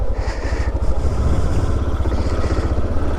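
Yamaha XTZ 660 Ténéré single-cylinder motorcycle engine thumping steadily at close range, a loud low pulsing beat with some rattly mechanical texture, riding off-road.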